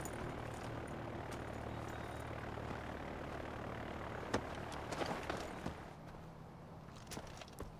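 Airplane engine in the Far Cry 4 video game, a steady broadband roar as the plane prepares to take off, with a few brief clatters and thumps partway through; no voices.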